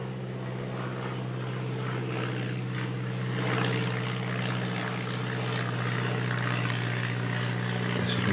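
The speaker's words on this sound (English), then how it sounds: "Wait for this aeroplane go." A propeller aeroplane drones steadily overhead, a continuous loud hum that swells slightly midway and holds.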